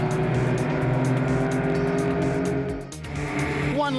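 Race cars from a racing video game at Kyalami, one a yellow and red Alfa, drive onto the start-finish straight with loud, steady, droning engines and a brief dip as one passes before the revs climb again.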